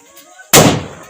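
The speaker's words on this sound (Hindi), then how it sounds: "ओ भाई साहब क्या ही धमाका था, जिंदा रहा इस बॉम्ब के साथ।" A Diwali firecracker bomb bursts once in a single loud, sudden blast, its heavy roar trailing off over the following second outdoors in the hills.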